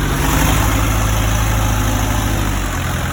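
An old-model 4D30 engine idles with a steady, loud, low rumble and an even mechanical chug. It runs alone with no talk, and its tone shifts slightly near the end.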